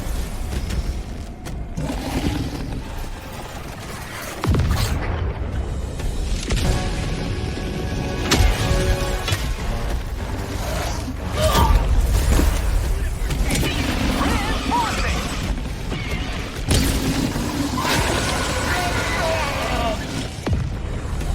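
A spacecraft lifts off during extraction in the video game Helldivers 2, a sustained loud engine roar with booming surges, heard over game voice lines and radio chatter.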